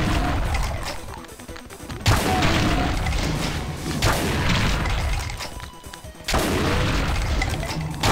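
Rocket explosions from a rocket jump in Doom 2 hit as loud, heavy booms at intervals of about two seconds, each a sharp blast that decays into dense, constant game din.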